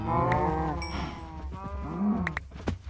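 Cows in the Minecraft video game moo in low, drawn-out calls, several overlapping moos close by and fairly loud, with no talking over them.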